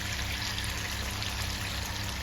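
Coconut milk pours into a pan of masala-coated fish fry, a soft, steady liquid trickle and faint sizzle lasting a couple of seconds, with no talking.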